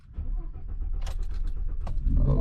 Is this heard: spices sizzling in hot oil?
no